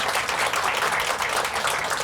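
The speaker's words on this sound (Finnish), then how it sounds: "Jos voitte vielä taputtaa myös Tiinalle, hän on aivan upea." Dense, steady audience applause at a Tampere sustainability forum closing event, a full hall of hands clapping continuously and evenly at close range, with no talking over it.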